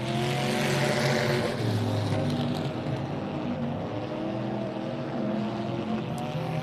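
E-Mod dirt track race cars racing in a heat at Texana Raceway Park, a loud continuous roar of several engines together with rising and falling pitches as the cars pass, with no voices.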